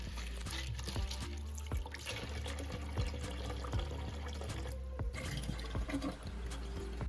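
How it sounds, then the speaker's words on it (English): Dried peas being washed in a pot of water in a Jamaican home kitchen, with steady pouring, sloshing and trickling water plus light clinks of the pot, close and continuous throughout. "I'm going to wash and then sink the peas"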